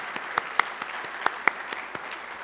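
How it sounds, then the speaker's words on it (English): Applause at a memorial lecture award presentation: a steady rustle of many hands with a few sharper, louder claps standing out near the listener, continuing evenly throughout with no speech. "Please join me in applauding"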